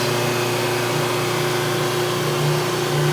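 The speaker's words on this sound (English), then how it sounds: "Hear that noise? That's a good grind." A grinding wheel sharpens a steel ice skate blade, giving a steady, loud, continuous whirring grind with a constant motor hum underneath and no pauses across the whole stretch.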